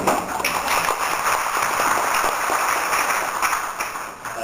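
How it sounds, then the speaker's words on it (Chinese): A hall full of people at a national senior high and vocational school education conference at the Sun Moon Lake Youth Activity Center in Nantou applauds a speaker, with dense, steady clapping lasting several seconds. "我们借这个机会再给他一个掌声"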